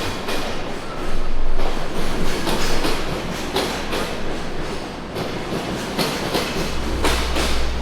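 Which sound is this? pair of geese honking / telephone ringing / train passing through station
train passing through station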